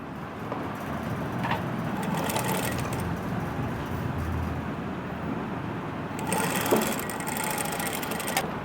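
Sewing machine stitching a party wear dress, a steady low mechanical whir running throughout at moderate level, with brief louder bursts of stitching near the start and toward the end.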